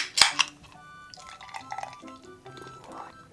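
Sapporo Classic beer from Hokkaido is poured into an ice-cold glass: a sharp glassy clink, then soft splashing and trickling liquid with light fizzing, close and quiet.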